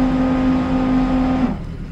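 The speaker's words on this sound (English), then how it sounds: "So let's introduce some thruster." The bow thruster on a Hydrolift X-32DC boat gives a loud, steady electric hum with a constant pitch for about a second and a half, then cuts off and leaves only background water and engine noise.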